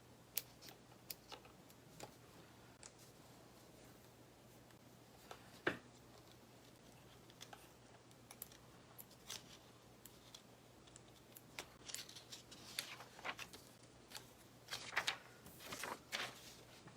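Scissors snipping fabric while making a Tiffany bag, a scattering of faint, sharp clicks that grow more frequent toward the end, with no talk.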